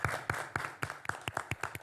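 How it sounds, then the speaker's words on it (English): A round of applause for the sponsors at a televised health talk: steady, evenly spaced hand claps from a small group, quite faint and somewhat distant, with no voices over them. "Let's give them a big round of applause."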